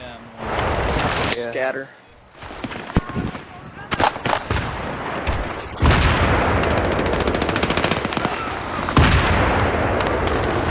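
Mortar blasts and rapid gunfire in a July 4 online multiplayer shooter match, with sharp bursts and sustained automatic fire, loud and close, mixed with players talking over them.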